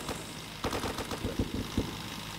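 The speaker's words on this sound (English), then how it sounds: "Yep, they're gonna start shooting." Bursts of enemy gunfire in the Roblox war game Blackhawk Rescue Mission, a handful of sharp rapid shots clustered over a couple of seconds against a steady background hum.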